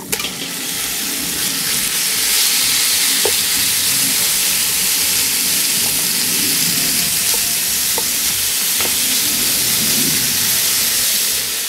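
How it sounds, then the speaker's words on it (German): Pork pieces sizzle and fry in a Dutch oven, a dense, loud, continuous crackle with a few light stirring clicks and no voices. "Und als nächstes werden wir jetzt dann unser Schweinefleisch noch kurz anbraten."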